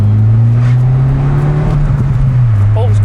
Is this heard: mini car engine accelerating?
yes